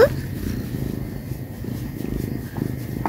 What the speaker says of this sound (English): she's purring so you might hear her